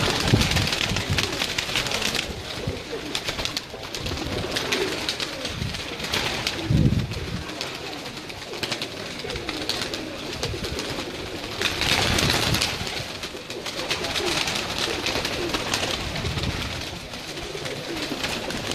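Pigeons cooing on a rooftop loft in Kasur, soft repeated coos over a continuous outdoor ambience with occasional rustles, a little flapping and no talking.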